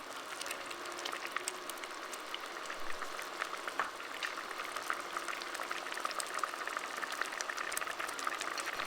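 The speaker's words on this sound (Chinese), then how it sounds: "沸腾后再煮8到10分钟，或温度达到105度C。" Pineapple jam with vanilla and rum bubbles in a pot on the stove, a close, soft, continuous simmering fizz with fine popping bubbles throughout and no voices.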